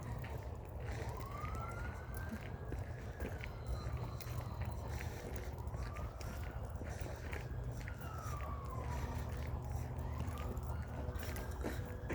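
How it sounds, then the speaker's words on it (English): Ambulance siren heard during a morning walk, a distant wailing tone rising and falling in slow sweeps over steady low traffic rumble, faint and far off. "as well as sirens. It's usually ambulances"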